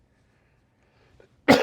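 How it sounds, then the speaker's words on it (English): A single sharp cough bursts out close by after near silence, brief and loud, preceded by a faint throat sound. "Sorry for coughing."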